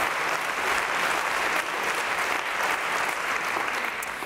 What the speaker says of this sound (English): Let's have a round of applause in recognition of this tradition